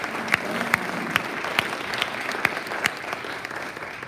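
A Rotary club audience applauds at a year-end meeting, a steady wash of clapping with a few sharper individual claps standing out, close and sustained for several seconds.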